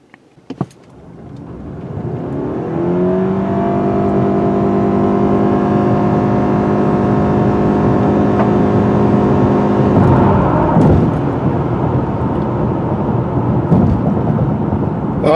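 2017 Honda Accord Hybrid in sport mode accelerating hard from 0 to 60, a loud steady engine drone that rises in pitch and holds for several seconds before easing off, heard from inside the car with no talk.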